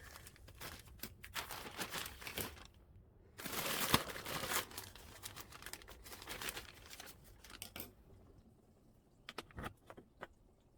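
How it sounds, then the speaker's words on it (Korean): A large plastic parcel bag is cut and crinkled up close, producing bursts of sharp crackling and rustling with short pauses between handling, no talking. "커다란 택배 비닐에서 주소 부분 오려내고"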